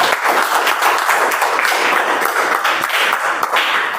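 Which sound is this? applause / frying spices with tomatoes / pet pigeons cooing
applause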